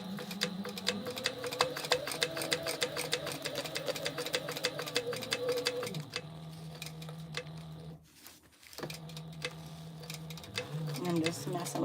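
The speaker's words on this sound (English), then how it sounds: "So we're just going to do a stay stitch again all the way around" A sewing machine running steadily as it stay-stitches around a pouch pocket, with rapid, even needle ticking that pauses briefly and then resumes, under quiet talk.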